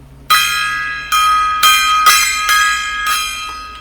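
A metal gong rings out sharply six times at irregular intervals, each strike bright and ringing before the next hit, close and loud.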